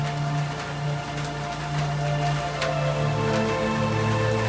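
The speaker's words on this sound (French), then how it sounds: "Ne sois pas distrait par la pluie" Steady rain pours down during a church service, a dense even hiss with scattered sharper drips and taps, fairly loud and continuous, over a low sustained hum of tones with no voices.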